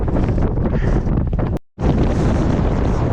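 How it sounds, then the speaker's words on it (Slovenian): Strong wind buffets the microphone high on Pico Viejo volcano in Tenerife, a loud roaring rush that cuts out briefly mid-clip before returning at full force. "Toliko piha, da tudi kape ne moram nositi, ker mi je odnesno."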